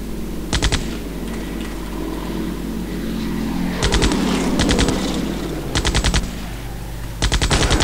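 Gunfire in the World War II video game Deadly Dozen, with several rapid machine-gun bursts rattling over a steady rumbling background, repeated in short volleys throughout.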